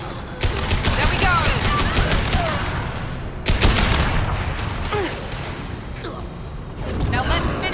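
Gunfire fills a firefight in the game Mass Effect 2: loud, near bursts of rapid shots and impacts, with brief pauses between volleys. Voices speak over the shooting.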